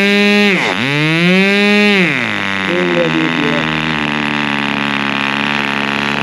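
Thunder Tiger GP-18 2.9cc glow engine of an RC airplane during break-in, loud and close, its pitch swooping down and back up before settling into a steady high-revving drone.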